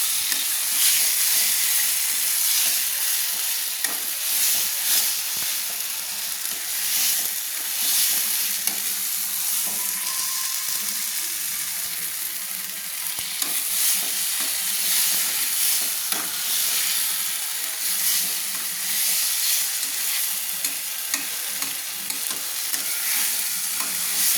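Fried potatoes being stir-fried with spices in a pan for egg kosha, a steady loud sizzle with the scrape and clatter of stirring throughout, no talking.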